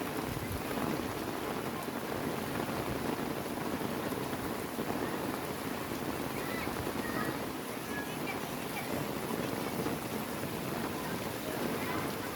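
Steady rain falling in the Philippines, a continuous broadband hiss of drops on surfaces that holds at a constant moderate level, heard from nearby without pause.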